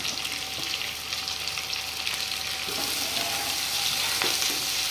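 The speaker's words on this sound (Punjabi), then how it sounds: "ਸਬਜ਼ੀਆਂ ਨੂੰ 5 ਮਿੰਟ ਦੇ ਕਰੀਬ ਆਪਾਂ ਇਸ ਤਰ੍ਹਾਂ ਤੇਲ ਦੇ ਵਿੱਚ ਭੁੰਨ ਲੈਣਾ ਹੈ" Chopped onion, capsicum, cauliflower, potato and cabbage fry in oil in a pan on a gas flame, a loud continuous sizzle with occasional stirring scrapes and no talk.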